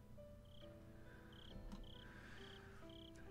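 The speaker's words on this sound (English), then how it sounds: "You know it's good vibes when you don't hear the Higurashi, but you hear crickets." Crickets in the Higurashi visual novel chirp in faint, regular repeated trills over a quiet ambient background.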